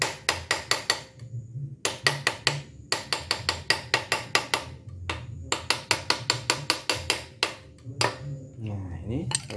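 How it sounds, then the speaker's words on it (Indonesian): A hammer taps a metal pulley on a scooter under repair, striking in quick bursts of sharp, ringing metallic blows with short pauses between groups, close and clear, with someone speaking at moments. "Kalau susah ya palu lagi gitu, misalkan susah ya palu lagi aja pelan"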